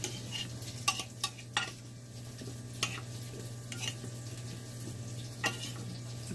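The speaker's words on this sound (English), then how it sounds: "Just stir it around." Cut onions, potatoes and garlic tossed together in a bowl with a spoon, quiet scraping and rustling with several crisp clicks of utensil against the bowl, close and fairly faint over a low steady hum.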